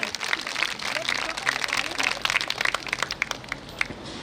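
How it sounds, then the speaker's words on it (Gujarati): A crowd gathered at a Santoshi Mata temple event claps loudly and steadily, the applause filling the whole moment with sharp, dense hand claps. "એ બધી જોરદાર તાળીઓ થઈ જાય"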